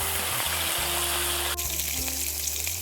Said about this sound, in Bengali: ফুলকপিটা ভেজে নেব।